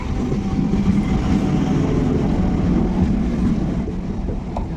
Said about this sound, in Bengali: এই যে ট্রেন ছেড়ে দিয়েছে, চলে যাচ্ছে